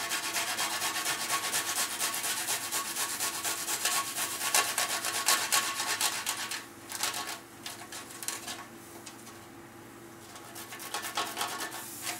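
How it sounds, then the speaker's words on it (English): Garlic grated into a pan for a vegan spiced rice dish: a steady, close, dry rasping scrape that runs almost continuously, easing off briefly near the middle before resuming. "So we grate the garlic into the pan."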